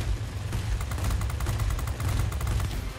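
Rapid cannon fire from a P-39N-1 Airacobra fighter in a World of Warplanes dogfight, a dense, loud stream of gunfire shots sustained for about three seconds with no talking.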